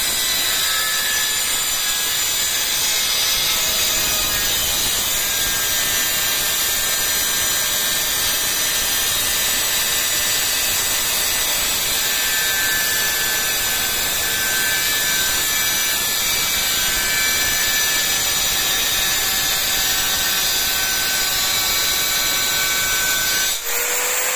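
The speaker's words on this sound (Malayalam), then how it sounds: "ആ സാധാ കട്ടർ വെച്ച് ചെയ്യുന്നത്" A power cutter whines steadily and loudly through the whole stretch, a continuous high-pitched grinding as it cuts through wood, with no voices.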